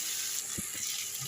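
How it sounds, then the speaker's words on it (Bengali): Steady hiss of grated ginger and garlic frying in a hot pan, with a couple of soft clinks from stirring. "এটা একটু ভাজা হোক"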